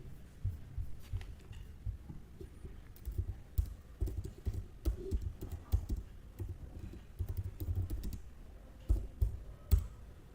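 Fingers type code on a computer keyboard in steady bursts of soft, close keystrokes with brief pauses, no speech over them.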